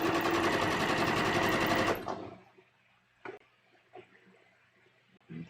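A sewing machine runs in a fast, loud, continuous burst of stitching as a bias strip goes along a V-neck dress neckline, then stops, leaving a few soft handling knocks.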